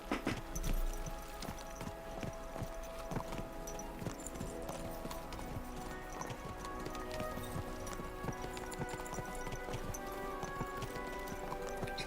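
Horse hooves clop in Kingdom Come: Deliverance II, a steady rhythmic trot heard moderately close over a dense game soundscape, with no speech.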